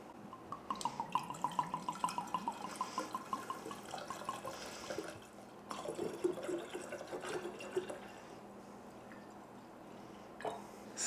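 Vodka and grapefruit juice poured for a Greyhound cocktail, a soft gurgling liquid stream with rhythmic glugs, then a second quieter pour, close and faint.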